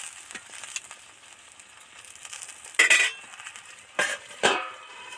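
A utensil scrapes and clatters against a pan of small fish in a few distinct strokes, over a soft background sizzle, close up with no voices.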